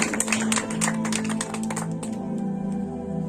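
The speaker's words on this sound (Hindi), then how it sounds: "ताली बजाए प्रभु के लिए" A church congregation claps for the Lord in a rapid, uneven patter of many hands over a steady musical drone, sustained throughout at moderate loudness.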